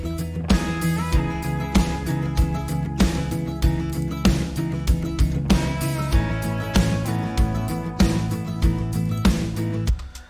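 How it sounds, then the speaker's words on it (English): Layered country guitars with extra lead guitar lines picking melodic phrases over strummed rhythm parts, steady and fairly loud throughout, with no voices. "we added in some extra lead guitar lines"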